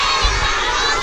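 A group of children shouts loudly together in unison, a sustained dense roar of young voices with a brief peak near the start, as at a church mission gathering.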